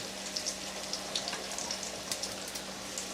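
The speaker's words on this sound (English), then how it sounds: "you hear that sound right there off the bat with those eggs cooking?" Eggs frying in a pan, giving a steady, faint sizzle with scattered small pops and crackles and a low constant hum beneath, no voices.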